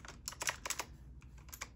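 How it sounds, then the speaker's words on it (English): Rapid typing on a computer keyboard, quick bursts of close, crisp key clicks with brief pauses between runs, no voice over it. "Sorry, I was typing way too quickly"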